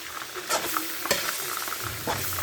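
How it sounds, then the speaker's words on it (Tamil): Tomatoes sauté in a pan for mutton biryani, giving a soft continuous sizzle broken by a few scraping stirs from a spoon, fairly quiet and close with no voices. "இப்போ தக்காளி பழம் நல்லா வதங்கட்டும்"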